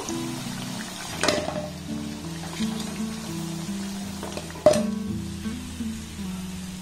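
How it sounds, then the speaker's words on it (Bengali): Snacks frying in hot oil in a home kitchen, a steady sizzle under a low hum, punctuated by two sharp utensil knocks, one early and one louder midway, close and with no talk. "আর একইভাবে সবগুলোকে আমি খুব সুন্দর করে ভেজে নেব"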